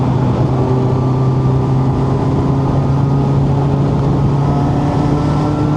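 A Honda CB1000 Hornet naked motorcycle engine runs at a steady, loud drone with a strong low hum and constant mechanical buzz throughout.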